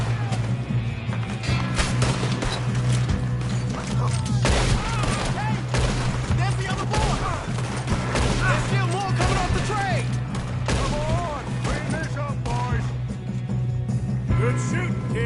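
Rapid gunfire from a Red Dead Redemption 2 shootout, dense overlapping shots over a steady low rumble, with voices talking throughout.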